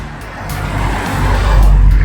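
A car passes on a Melbourne street, its engine and tire noise building from a low rumble to a louder, close sweep by the end.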